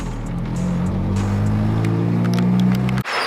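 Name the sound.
car driving around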